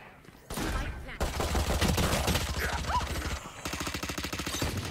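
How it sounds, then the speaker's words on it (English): Swarm grenades go off in the Valorant video game, a dense, rapid series of sharp popping bursts over a loud, sustained rumble, continuing without a break under game effects. "Placing swarm grenade."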